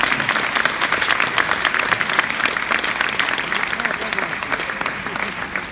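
Spectators applaud at the Jump'In de Rouen 2019 show-jumping event after a rider's fall, loud sustained crowd clapping, close and dense, with voices mixed faintly beneath it.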